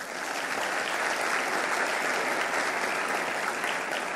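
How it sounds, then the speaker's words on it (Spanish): A dense, continuous wash of audience applause fills a hall at an interview event honoring a Colombian women's rights advocate, with many hands clapping at an even level for several seconds. "Un aplauso para ella,"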